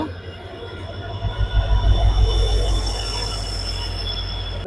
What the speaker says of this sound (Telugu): మన ట్రైన్ అయితే ప్లాట్ఫామ్ మీదకి అయితే వచ్చేస్తుంది